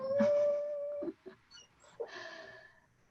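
Dogs howl and yelp at close range in a few drawn-out, wavering cries separated by short pauses and whimpers, with no talking over them.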